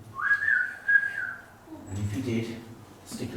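A storyteller imitates a whistle with a clear, sustained whistled tone, then goes on speaking after it.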